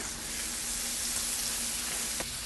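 Peppers frying in a pan, giving a steady, close, even sizzle with a faint crackle near the end and no voices.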